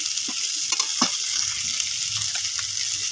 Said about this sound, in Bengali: শুকনো লঙ্কার গুঁড়ো দেবো আদা রসুনের পেস্ট দিলে আর পেঁয়াজের পেস্ট দিয়ে ভালোভাবে নাড়াচাড়া করে আমি কষিয়ে নেব